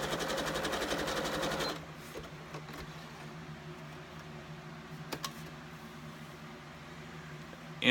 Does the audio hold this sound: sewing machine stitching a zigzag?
yes